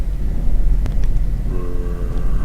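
A tier 2 train in a modded rail-building video game rolls through a tunnel with a steady, loud mechanical rumble, and a brief sharp accent and a sustained tonal hum join partway through.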